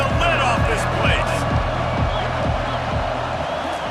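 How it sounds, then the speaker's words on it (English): Crowd noise at a stadium in EA Sports College Football 25, Penn State vs Florida, a loud steady roar with cheering and whoops that runs under continuous play-by-play commentary. "this crowd is tearing the lid off this place"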